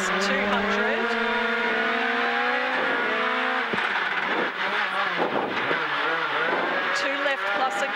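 Rally cars, including a Honda Jazz, race along a forest stage, their engines revving and rising in pitch through gear changes, then fading into mixed mechanical noise, under a voice talking throughout.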